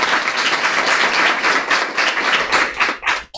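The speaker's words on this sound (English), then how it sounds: "a round of applause for Jackson County." Audience applause at a school board work session, a steady burst of many hands clapping close by that fades slightly near the end, with no talking over it.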